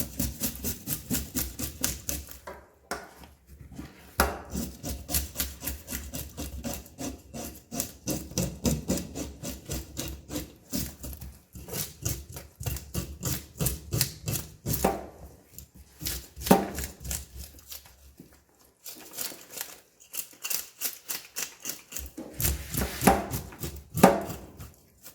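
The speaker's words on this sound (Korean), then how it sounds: "이 칼 들어가는 부위는 확실하게 깔끔하게 비늘을 쳐줘야 된다." A knife rasps scales off a fish in a kitchen, in long bursts of quick repeated scraping strokes with short pauses between them, close and moderately loud.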